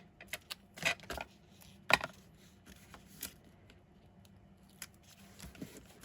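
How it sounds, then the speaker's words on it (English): Pink scissors snip through paper in a few crisp, separate cuts, quiet and close, with soft rustling between them. "Pink scissors."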